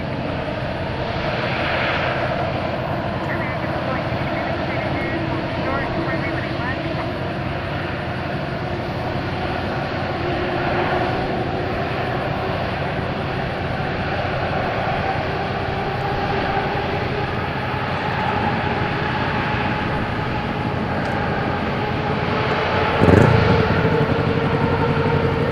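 A Qantas airliner's jet engines spool up for takeoff at a busy airport, a broad continuous roar that holds steady and slowly swells, heard from a distance with no voices.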